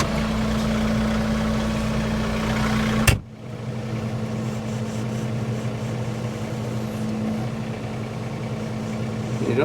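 A tractor engine idles while it is hitched up for firewood work. A steady low rumble runs throughout, broken by one sharp clunk early on before the engine settles back into its even hum.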